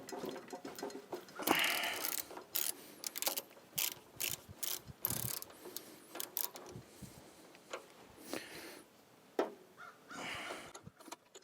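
A ratchet wrench works a spark plug out of a tiller engine, giving a run of close, irregular clicking and ratcheting bursts with brief pauses and metallic rattles.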